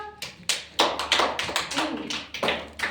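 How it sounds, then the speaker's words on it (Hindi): Hands clapping at a children's birthday gathering, about a dozen sharp, quick claps in an irregular rhythm, close and clear with nothing else over them. "हाँ वेरी गुड, ताली बजाओ।"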